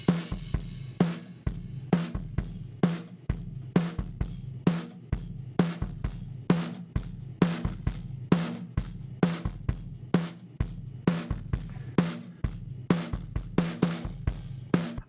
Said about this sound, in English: what I want it to sound like is a drum kit together in the same room